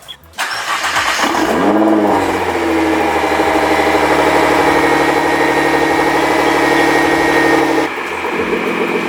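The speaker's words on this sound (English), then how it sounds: "Let's fire up the car at the remote." A Nissan GT-R fitted with an ARMYTRIX exhaust cranks over and fires up, settling into a loud, steady idle for several seconds. The engine note holds close and unbroken before it drops away near the end.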